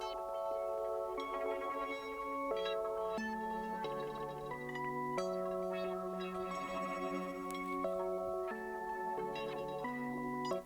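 Soft synth chords from an Astra VST preset played an octave higher in FL Studio, a sequence of sustained bright chords changing every second or so, quiet and with no voices.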